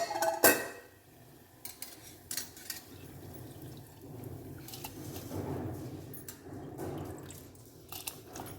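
Soaked rice pours into a pot of hot water: a sharp metallic clink, then soft rustling, sloshing and bubbling, quiet and close.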